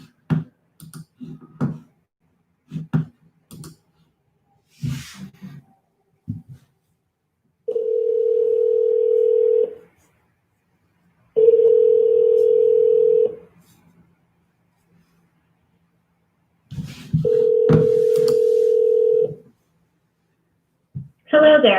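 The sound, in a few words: telephone dialing and ringing on an outgoing call to a cell phone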